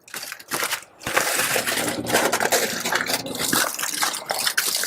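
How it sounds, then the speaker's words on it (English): New York steaks drop onto a hot pellet grill and set off a loud, continuous hissing sizzle with brief crackles, close and up front, with no voices. "we're just going to flip these right over onto the grill"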